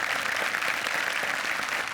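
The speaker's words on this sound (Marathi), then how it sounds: "जोरदार टाळ्या सुनील बर्वे सरांसाठी झाल्या पाहिजेत." A studio audience on a Marathi comedy show applauds producer Sunil Barve with a dense, even wash of clapping, sustained and slightly distant throughout.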